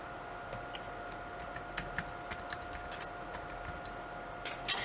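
An old PC hums steadily with a faint tonal whine while someone types on its keyboard nearby, the key clicks landing in irregular taps and ending in one louder clack.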